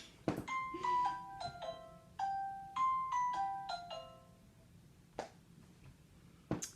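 A phone rings in a room, a melodic ringtone of bright rising and falling tones repeated in short bursts, with a few knocks and thumps in between and no talking.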